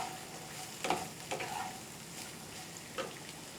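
Carrot, capsicum and beans fry together in a pan, with a soft steady sizzle under a few sharp stirring scrapes, close by and moderately quiet.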